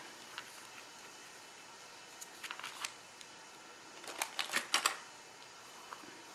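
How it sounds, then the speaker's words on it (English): A bone folder creases stamped, folded paper pieces with a series of crisp, light scraping and tapping strokes, clustered in two short bursts over a quiet background. "get a good crease with the bone folder"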